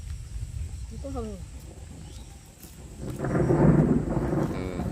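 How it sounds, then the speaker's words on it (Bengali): Thunder rumbles low and sustained under an overcast sky, swelling louder in the second half of the stretch with a steady wash of storm noise; a brief chirping call rises near the start. "মেঘের গর্জন শুনলে ভয় লাগে"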